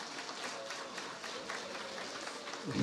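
Audience applause at a political forum at the National Assembly Constitution Memorial Hall, a steady wash of clapping throughout, swelling slightly at the end.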